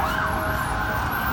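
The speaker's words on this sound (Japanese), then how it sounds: "パトカーと救急車は、どこの国に行ってもそうですけど、1日中24時間体制で、ほら、 すげえ騒がしいですね。" Emergency sirens from police cars and ambulances wail steadily and loudly through the busy streets of central London, a continuous high tone over traffic rumble.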